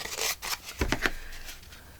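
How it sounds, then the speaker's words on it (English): Small scissors snip paper while journal pages are trimmed, a handful of quiet, crisp cuts and rustles close to the microphone. "I really don't like using the little scissors."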